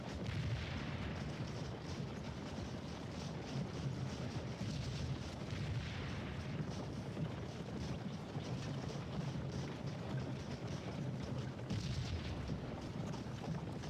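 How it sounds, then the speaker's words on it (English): Artillery shell explosions in Scourge of War: Gettysburg, a Civil War video game, rumble as a dense, continuous low roar of distant booms and battle noise, with no speech. "Ooh, a nice little shell explosion there."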